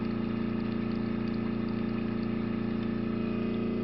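An airbrush is back flushed with cleaning liquid, a steady pulsing mechanical hum with bubbling, gurgling liquid, continuous and close throughout.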